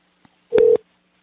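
A single short telephone ring tone sounds on the line as one clear electronic burst, preceded by a faint click, with near silence before and after.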